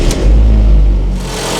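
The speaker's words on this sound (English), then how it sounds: "So let's go start up the car." A Honda Civic engine is running loudly and close by, a heavy low rumble that swells and holds steady before easing slightly, with no talk over it.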